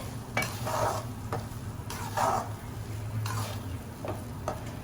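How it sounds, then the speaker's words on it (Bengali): Mutton masala in soybean oil is stirred in a pan, the spoon scraping in repeated strokes about once a second over a steady low sizzle, fairly close, with no talking. "আমি আরেকটু সয়াবিন তেল দিয়ে দিয়েছি কিছুক্ষণ ভালোভাবে নাড়াচাড়া করে"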